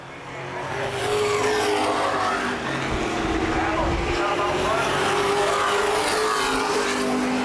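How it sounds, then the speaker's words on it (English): Late model race cars roar around Baer Field Speedway during a 2011 feature race, a loud, steady wall of engine noise that holds throughout with slight swells as cars pass. "These two cars about 5 car lengths ahead of third place, Derek Hoffman."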